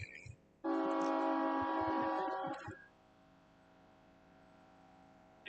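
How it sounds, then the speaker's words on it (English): A train horn blares loudly for about two seconds over a low rumble, then fades to a steady distant rolling drone as the train passes through Columbia near an outdoor sports field. "That's a train rolling through Columbia"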